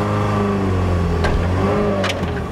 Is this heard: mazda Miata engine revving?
yes